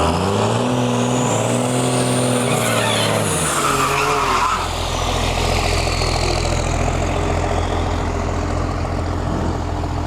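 A brand new BMW M2 and an old Dodge with big rear tires launch side by side at a drag strip, engines revving hard with loud tire squeal, then a sustained roar as the cars pull away.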